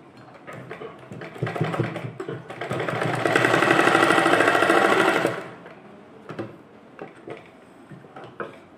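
A sewing machine stitches fabric for a small doll dress for a Kanha ji figure, running in one loud, close, steady burst of about two seconds, with lighter mechanical ticks before and after.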